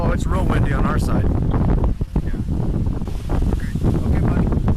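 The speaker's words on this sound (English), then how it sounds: "Oh, it's real windy on our side." Strong wind roaring and buffeting the microphone by spraying water at night, a steady loud rush throughout with a brief lull midway, while people talk over it.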